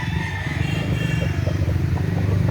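Chickens and roosters offered for sale at a Filipino market cluck and call, with a low steady rumble of market or engine noise underneath throughout.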